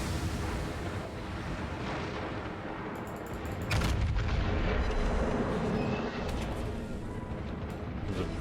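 Naval gun salvo fired at the Kremlin battleship in a video game: a steady low rumble of distant booms and heavy gunfire, swelling louder partway through and rolling on without talk.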